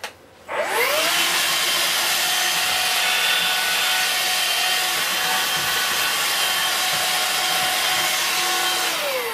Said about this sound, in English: Oh yeah, that's my Vax handheld, by the way.